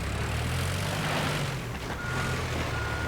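A truck in the video game Teardown drives toward a gate to smash through it, with a loud, dense engine roar and a steady beeping tone running through.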